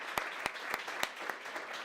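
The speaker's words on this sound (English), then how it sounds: "a big round of applause for them" A theater audience gives a thin round of applause after a holiday story hour show, with a few sharp, distinct claps standing out from the steady patter.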